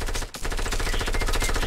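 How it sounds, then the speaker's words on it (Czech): Gunfire in the video game Fortnite: rapid, closely spaced shots ring out loud and near in a continuous rattling stream, broken only by a brief gap early on, with no talking. "Někdo po mně střílí snipem."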